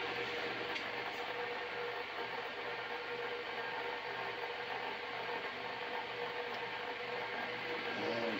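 A mid-1950s Superior Electric oscillating fan runs with a steady mechanical hum and a continuous fine rattle from its loose head unit, close and unbroken, with no talking.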